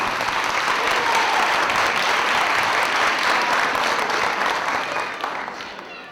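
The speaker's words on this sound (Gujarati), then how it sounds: "જોરદાર તાળીઓથી વધાવો" An audience gives loud, sustained applause honoring a former school principal, a dense continuous roar of clapping that holds steady and then tapers off toward the end.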